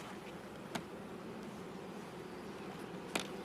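Honeybees hum at a hive while it is being moved, a faint, steady, continuous buzz with two brief sharp clicks and no talking.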